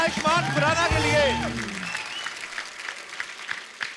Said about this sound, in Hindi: जोरदार तालियां एक बार आयुष्मान खुराना के लिए।